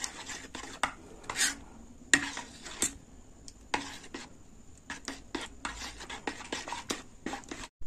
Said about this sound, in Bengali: মিক্সি তো নেই, চামচ দিয়ে গুলে নিতে হচ্ছে